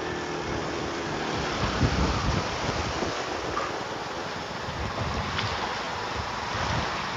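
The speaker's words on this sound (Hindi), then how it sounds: "गाड़ी बाइक हमारी पूरी की पूरी पानी में घुसी हुई है" A motorbike pushes through deep floodwater, giving a steady broadband rush of churning water and wind buffeting the microphone, continuous and close throughout with no talk.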